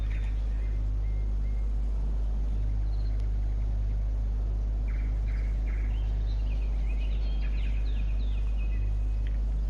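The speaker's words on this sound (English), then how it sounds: "Hear the birds chirping away in Monza National Park." Birds chirp in short, high, scattered calls in Monza National Park beside the racing circuit, fairly faint over a steady low engine rumble, with no talking.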